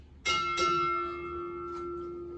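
A ship's bell is struck twice during a US Navy retirement ceremony, two sharp clanging strikes about a third of a second apart, each ringing out in a long, steady sustained tone that lingers.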